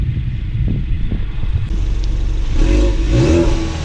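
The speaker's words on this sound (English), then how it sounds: "Here I am revving up the engine." A 2019 Mustang EcoBoost engine rumbles low, then swells as it revs up, loud and close, with no voices.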